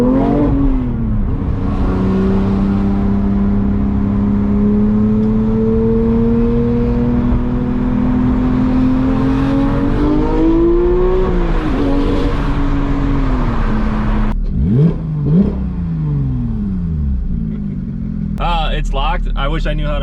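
A manual Porsche 991.2 GT3 engine pulls hard from inside the cockpit, pitch rising steadily through the gears, then revs sharply in quick blips near the end, with people talking over it.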